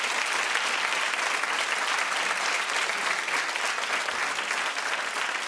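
Sustained studio audience applause on a daytime talk show, a dense, steady wash of many hands clapping at even loudness throughout, with no voices standing out.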